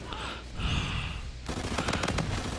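Rapid gunfire bursts in a video game, shotgun blasts cracking in quick succession, loud and close after a brief stretch of quieter game sound.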